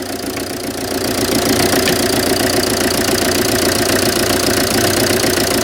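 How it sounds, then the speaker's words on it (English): Citroen Berlingo engine with a glow plug problem and a persistent misfire idles loudly up close with a rough, pulsing knock and a rushing intake roar after cleaner is sprayed up the intake. "That's some induction noise."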